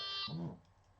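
A single short electronic beep from a Delkim fishing bite alarm, close and fairly faint, fading into quiet background.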